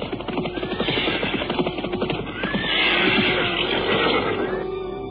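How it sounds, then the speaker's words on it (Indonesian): Horses neigh and whinny over continuous galloping hooves in a radio drama, a busy, dense layer of animal calls and clip-clop that stays steady throughout, with no speech. "Malamnya mereka tidak berhenti, melainkan terus berkuda."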